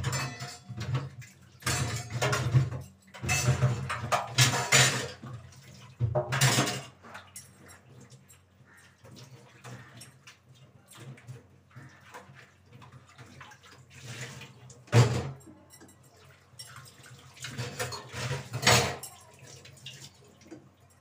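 Pots and dishes greasy with ghee are washed with hot water, heard as bursts of splashing and pouring, clinking metal utensils and drips, with quieter pauses between the rinses, close by.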